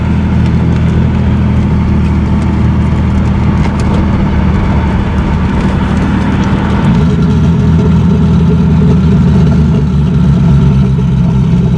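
A turbocharged 2JZ-GE engine swapped into an MK3 Toyota Supra idles with a loud, steady, deep exhaust burble, its tone thickening slightly partway through, with no voices.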